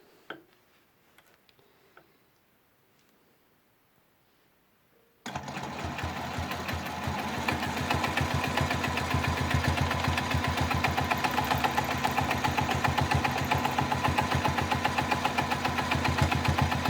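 A sewing machine stitches a leafy quilt border. After about five seconds of near silence it starts up and runs at a fast, steady, loud mechanical whir with a rapid ticking needle rhythm until the end.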